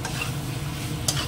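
Fish goes into spiced masala in a hot pan, with a steady close sizzle and a scraping stir that flares briefly near the end.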